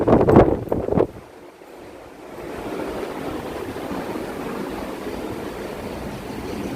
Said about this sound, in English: That's why so much wind are coming.